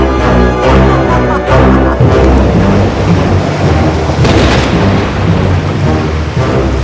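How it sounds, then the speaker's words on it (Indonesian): Deep rolling thunder rumbles through a heavy storm at sea, with a dense wash of rain and big surging waves continuing throughout. "Kukirim guru, badai dan kilat, gelombang besar untuk membalikan kapal"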